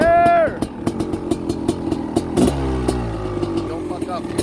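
Honda CR500R two-stroke motorcycle with a 512cc big-bore engine and balanced crank, blipped in a sharp rev that drops into a rapid, rough idle, loud and close, with shouted voices mixed in.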